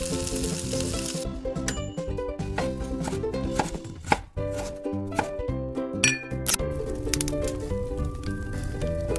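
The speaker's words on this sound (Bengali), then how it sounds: "বাঁধাকপি সরু সরু করে কুচিয়ে দেব, ক্যাপসিকাম কুচি, বিনস কুচি" Cabbage, capsicum and beans are chopped on a board, with rapid knife taps over a background of music and sizzling.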